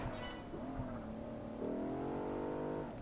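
A Bentley engine heard from the interior view in Project Gotham Racing 4: a steady tonal drone that climbs in pitch as the car accelerates, briefly dips, then holds a higher rev, loud and continuous.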